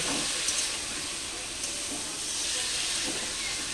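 Spice paste sizzles and fries in a hot pan while cooking vegetarian khichuri, a steady, dense, close hissing sizzle throughout with faint stirring scrapes.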